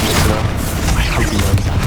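Confringo explosion spell cast in the video game Hogwarts Legacy, a loud, dense blast of rumbling booms and crackling debris lasting about two seconds without a break.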